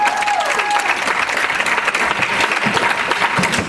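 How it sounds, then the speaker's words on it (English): A church congregation at 1st Baptist Church of Cumminsville applauds the youth on Youth Appreciation Day, a brief, steady wave of clapping with a few scattered voices. "Let's give them a round of applause."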